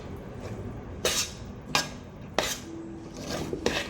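A spatula mixes prawn biryani in a pot, giving four or five sharp metallic scrapes and knocks at uneven intervals over a soft background rustle.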